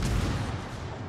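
Ship guns fire from the warship Brisbane in a naval video game, a single heavy, booming blast that fills the moment and rumbles as it decays.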